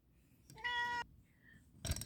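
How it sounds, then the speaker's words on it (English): A house cat meows once, a clear, drawn-out harmonic cry standing close and alone against a quiet room, followed by a softer chirp and a short burst of noise. "sorry about my cat."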